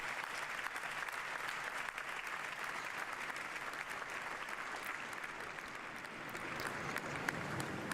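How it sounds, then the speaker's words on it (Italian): Thunderous applause rises from a vast crowd of young people gathered in a park for an outdoor papal Mass at World Youth Day in Lisbon, a dense, continuous roar of clapping heard from a distance. "E l'applauso fragoroso che sale dal parco è una risposta dei giovani"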